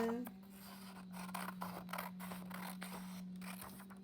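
Scissors snip through paper in a series of short crisp cuts, cutting around the outside of printed words in a long strip, close and quiet over a steady low hum.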